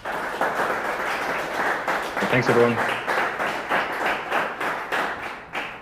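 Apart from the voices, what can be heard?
audience applause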